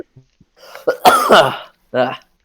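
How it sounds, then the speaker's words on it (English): A person coughs a few times in short, close bursts, with brief speech-like sounds around them, in a casual indoor conversation setting. "Hey, you're making me cough."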